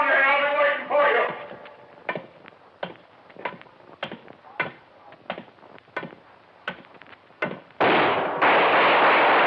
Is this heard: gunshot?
yes